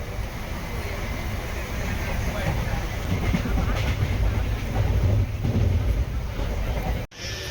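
The Mangalore Central to Tambaram Chennai Egmore Express rumbles steadily along the rails in rain, a continuous close roar with wind buffeting, heard from on board.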